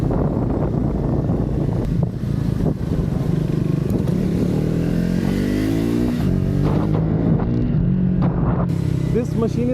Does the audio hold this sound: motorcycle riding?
yes